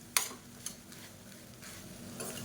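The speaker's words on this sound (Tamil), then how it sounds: "நல்லா மிக்ஸ் பண்ணி விட்டுக்கலாம்" Cooked plain rice is stirred through a seasoned pan for a lunch-box variety rice, giving soft scraping and light clinks of a spoon against the pan with a faint sizzle, quiet and close, with no talking.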